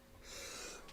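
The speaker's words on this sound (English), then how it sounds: "I'm trying desperately not to sneeze again." A single sneeze, or a stifled attempt at one, from a presenter during a live Saturday chat show: a breathy, hissing burst that swells and holds for under a second, fairly close and alone with no talk.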